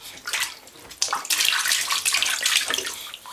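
A child splashes water in a bathtub, close and lively, with irregular sloshing bursts and sharp splashes coming in quick, uneven surges and no talk over them.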